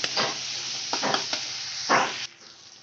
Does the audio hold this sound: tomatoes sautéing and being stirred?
yes